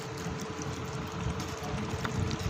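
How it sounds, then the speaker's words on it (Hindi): Water pours into a cooking pot holding petha (ash gourd) for halwa, a steady broadband splashing and gurgling that runs throughout at close range with no talk. "ये पानी डाल दिया है।"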